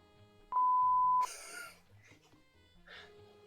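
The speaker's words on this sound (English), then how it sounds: "I have a feeling what the word was he beeped out." A single steady censor bleep covers a spoken word in the visual novel game Anniversary no Kuni no Alice. It is a loud pure tone lasting under a second, followed by soft breathy vocal sounds and quiet background music.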